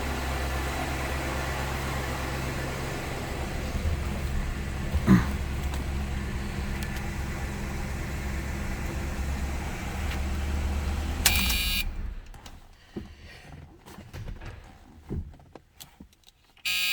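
A 1979 Pontiac Grand Prix with a factory 4-speed sits idling, its low steady engine rumble continuous and close for about eleven seconds before cutting to quieter, sparse background sounds.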